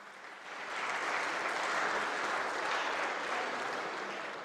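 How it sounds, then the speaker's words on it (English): Audience applause fills the hall at the opening ceremony of the Under-23 World Squash Championship in Pakistan, a dense, steady clapping that swells after a soft start and holds evenly without voices. "Can we please give them a big round of applause again?"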